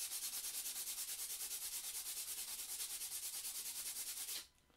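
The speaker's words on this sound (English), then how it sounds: "No shortage of sanding gets done around here, that's for sure." Sandpaper rubs rhythmically back and forth on a high power rocket part, fast even strokes close up for several seconds before stopping abruptly, with no voices.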